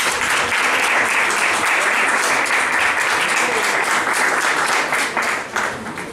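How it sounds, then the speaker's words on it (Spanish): Strong, sustained applause from a university audience welcomes a speaker at a lecture on international treaties in the Mexican constitutional system, dense and even for several seconds before starting to thin out at the end. "Recibámoslos con un fuerte aplauso."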